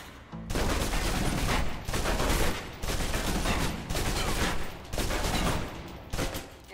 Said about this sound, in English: let's move on to the submachine gun. I see. Now let's empty the clip.